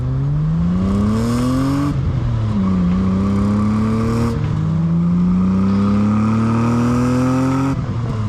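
A BMW E30 fitted with a new exhaust roars close by, its engine note climbing through gears in repeated rising pulls with brief dips at each shift, loud and continuous.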